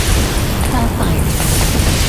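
A Hellfire strike in the video game Defense Zone 2 produces a loud, dense rumble of booming explosions lasting a couple of seconds, with a brief game voice callout.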